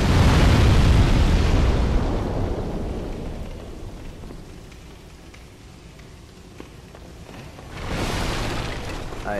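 Fire-breathing enemy in the Demon's Souls tunnel level blasts a loud roaring gout of flame, surging at the start, thinning to a rumble, then flaring again near the end.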